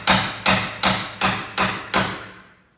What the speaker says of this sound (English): separate it with a hammer and a chisel delicately